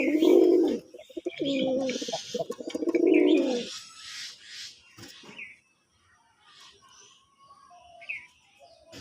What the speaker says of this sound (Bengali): দেখেন কিভাবে নটটা ঘুরে ঘুরে ডাকতেছে